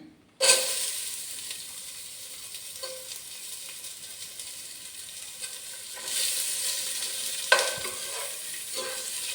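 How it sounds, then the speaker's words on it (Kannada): Chopped medium onions hit hot oil with a sudden loud sizzle that settles into steady frying, then surges again as they are stirred, with a sharp scrape or clink near the end. "ಈಗ ಅದಕ್ಕೆ 1-2 ದೊಡ್ಡ ಮೀಡಿಯಮ್ ಸೈಜ್ ಈರುಳ್ಳಿನ ಕಟ್ ಮಾಡ್ಕೊಂಡಿದ್ದೇನೆ, ಅದನ್ನು ಹಾಕ್ತಾಯಿದ್ದೀನಿ."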